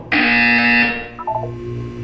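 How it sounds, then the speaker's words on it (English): A loud, steady electronic buzzer blares from the Lego Batman video game for under a second, then fades into a few short blips, with no talking over it. "When you hear the buzzer, look up at the ceiling."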